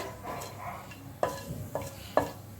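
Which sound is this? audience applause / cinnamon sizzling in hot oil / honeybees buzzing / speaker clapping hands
cinnamon sizzling in hot oil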